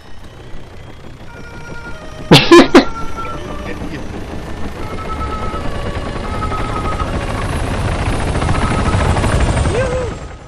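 Helicopter flying low in the video game Arma 3 Altis Life, a steady rotor and engine drone building louder toward the end, with a short burst of sharp sounds near the start and voices talking over it.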